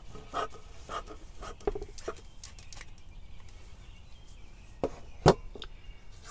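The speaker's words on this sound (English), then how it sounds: "Now I'm going to cut this strip lengthwise." Scissors cut lengthwise along a strip of paper towel, giving a quiet series of close, irregular snips and crisp rustles with one sharper clip near the end.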